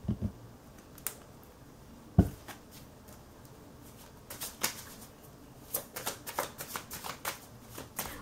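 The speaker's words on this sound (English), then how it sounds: "I'm going to shuffle the cards" Tarot cards being shuffled nearby, irregular riffling and soft slaps in bursts, quiet between them, busier toward the end.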